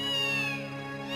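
A cat meowing in a Hindi children's cartoon, one loud, close, sustained tonal meow that holds steady, then bends downward and fades slightly.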